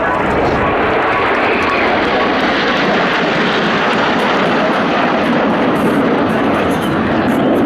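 Patrouille de France aerobatic jets fly a display, producing a loud, steady, broadband jet roar that fills the whole stretch at close range without letting up.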